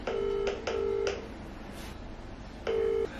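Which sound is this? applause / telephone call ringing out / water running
telephone call ringing out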